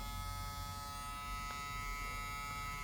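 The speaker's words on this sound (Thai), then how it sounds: "เปิดทดสอบเสียงครับ ว่าจะดังไหมนี่ครับ" Steady electric buzzing of a cordless 9000 RPM hair clipper motor running continuously at close range, with no talking.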